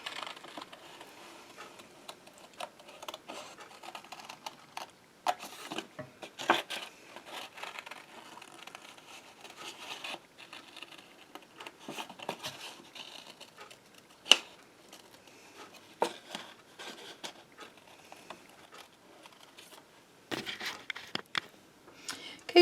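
Paper is being cut out into an image, with scattered crisp snips and rustling handling sounds that come in irregular bursts against a quiet background.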